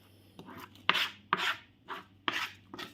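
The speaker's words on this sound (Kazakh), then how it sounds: "Папа балық ашып жатыр" A whole fish being cleaned and scaled by hand, heard as a steady series of rasping scrapes and knocks, about five or six strokes in a loose rhythm, close and fairly quiet.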